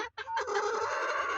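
A three-month-old tornado pullet chicken clucks in a short, close burst of a few strained, drawn-out calls, heard alone without talk.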